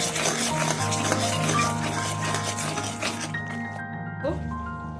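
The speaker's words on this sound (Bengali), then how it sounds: "তো সব কিছু দিয়ে মিক্স করে নেবো।" Sugar, salt and spices being stirred together in a pan for matar paneer, a close scraping and rubbing stir over a soft sizzle, with a hum in the background.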